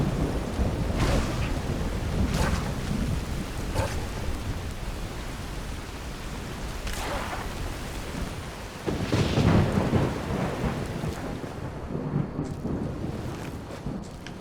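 Steady video-game rain falls under deep, rolling thunder rumbles that swell several times, with one heavier crash building near the middle.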